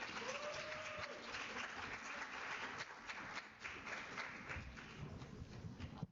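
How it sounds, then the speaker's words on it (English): Applause from a seminar audience at the close of an academic panel discussion, steady and fairly loud for about six seconds as a dense wash of clapping. "A round of applause."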